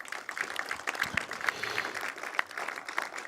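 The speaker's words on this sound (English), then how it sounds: "Please join me in giving them all a round of applause." Audience at a cybersecurity training event applauds sponsors, attendees and advisors, a steady wash of many hands clapping at moderate volume with scattered sharper claps throughout.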